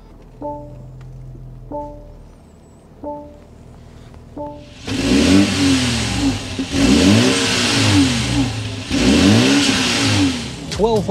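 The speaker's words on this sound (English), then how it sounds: "We need to go inside, start it up so you can hear that exhaust note." A 2024 BMW 530i gives a few short chimes, then its engine starts and revs in three strong, rising surges of exhaust note, loud and close, with brief settling between pulls.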